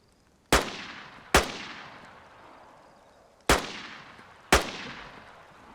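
Four sharp gunshots from a gun in DayZ, loud and close, in two pairs with a gap between them, each trailing into a short decaying echo, no talk.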